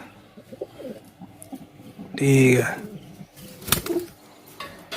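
Teddy pigeons near the Attari border coo and flap their wings close by, a burst of wingbeats and soft cooing mixed with people talking quietly nearby.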